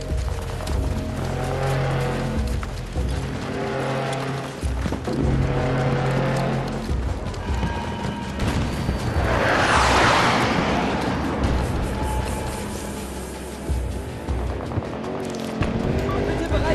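A vehicle arriving in the game Battlefield 2042: engine drone and whine with tire noise and mechanical clatter over battlefield background, swelling into a loud passing rush around the middle before settling back to a rumbling hum.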